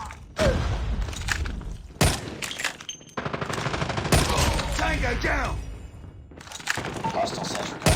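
Rapid bursts of video game gunfire from Call of Duty shooting practice, loud and repeated in clusters with brief gaps, mixed with game effects while players talk over it.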